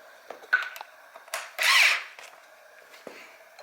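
A power tool tightens the bolts on a brake rotor being fitted to the hub of a D21 drift truck, a short loud whirr burst amid clicks and handling knocks, nearby and without talk.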